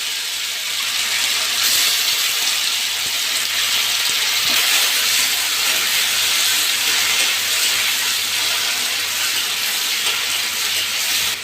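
Chopped tomatoes fry in hot oil with whole cumin and dried red chilli, giving a continuous bright sizzle with soft crackles, steady and close throughout.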